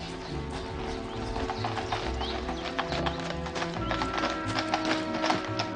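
Horse-drawn carriage rolling along at close range, steady clip-clop of hooves over a rumbling wheel and harness clatter, with an occasional whinny, continuous throughout.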